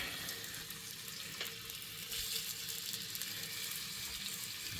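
Kebabs cook in a hot pan, giving a faint, steady, watery sizzle that runs evenly throughout with no distinct stirring or voices.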